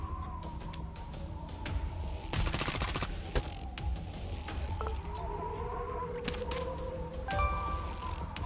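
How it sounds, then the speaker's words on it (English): A turret in Reverse Collapse fires a rapid burst of shots, a dense rattling salvo mid-clip over a low mechanical hum, followed by scattered cracks and whirring machinery. "Let's see what this turret can do."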